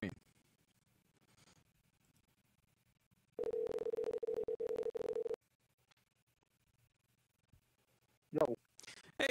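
A telephone call tone sounds while someone is being rung up on a podcast line, a steady mid-pitched tone lasting about two seconds after near-silence, followed by brief bursts of talk.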